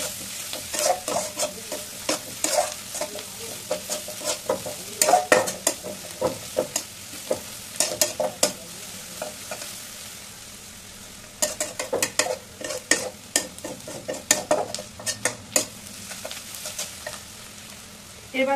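Chopped onion and garlic frying in a pan, with loud sizzling and repeated scraping stir strokes in irregular bursts and short pauses, close up and without speech.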